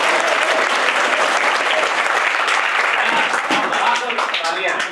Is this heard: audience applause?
yes